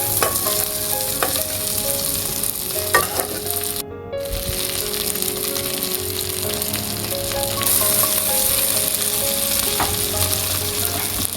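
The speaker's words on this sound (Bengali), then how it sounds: "আমার মাছটা ভাজা প্রায় শেষের দিকে" A fish fish-head fries in a pan alongside mung dal, giving off a continuous crackling sizzle with occasional utensil scrapes and pops, loud and close, with a brief gap partway through.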